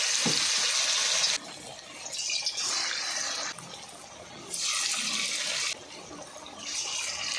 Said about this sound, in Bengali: এরকম গোল গোল করে দিয়ে দেবো তেলের মধ্যে